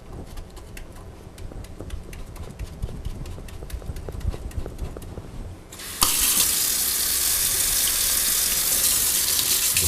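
A paint brush is rinsed clean of blue paint with soap and water: quick taps and clicks first, then a tap runs in a loud, steady gush of water into a sink until the end.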